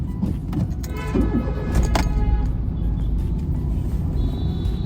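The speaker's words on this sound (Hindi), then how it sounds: "ये गाड़ी निकलेगी तो मैं गाड़ी लगा लूंगा।" A car being moved out of and into a parking spot gives a low, steady engine rumble close by, with a few light clicks and clinks on top and no talking.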